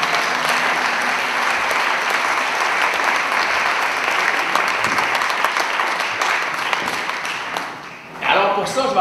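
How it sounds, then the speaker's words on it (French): An audience gives a round of applause for the pianist Philippe, a dense, loud crowd clapping that carries on steadily for most of the stretch before fading at the end. "On donne une main d'applaudissement à mon pianiste qui s'appelle Philippe"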